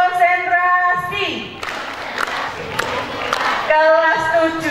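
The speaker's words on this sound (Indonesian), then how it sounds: "semua kelas 9 tepuk 3 kali" A class of grade 9 students at a school waste-sorting event claps together in a loud burst of group clapping and crowd noise, set between stretches of talk.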